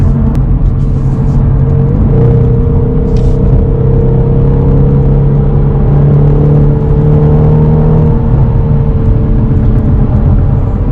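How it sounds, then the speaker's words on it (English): A loud BMW sports coupe engine drones and revs steadily, its pitch rising and holding over a constant low rumble, close by and alone. "because it's a sports coupe. It's totally worth to hear this noise."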